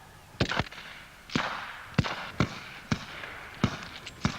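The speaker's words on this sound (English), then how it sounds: "Alpha fire team, move first. Bravo team, give covering fire." Gunfire crackles across a WWII battle scene as covering fire is laid down, with about eight sharp, loud shots spaced irregularly, some in quick pairs, each ringing briefly over a low rumbling background.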